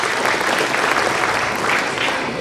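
A crowd applauds at a year-end party gathering, with dense, steady clapping that stays loud and even throughout.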